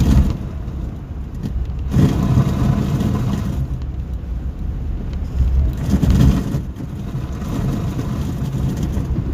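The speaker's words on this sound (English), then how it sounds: "That is snow and sleet, or slush, hitting the bottom of my car." Snow, sleet and slush spraying against the underside of a car driving on a slick, snow-covered road in Sioux Falls at night, a loud broadband rushing hiss that swells and fades in waves over the steady engine and road rumble.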